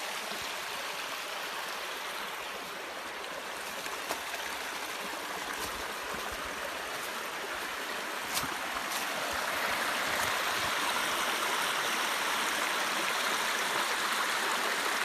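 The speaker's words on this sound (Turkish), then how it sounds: "Bu derinin suyu şu şekilde vadi boyunca akıyor." A valley stream near Şile flows steadily down the Firavun Valley, a continuous broadband rush of water that grows slightly fuller toward the end, with no voices over it.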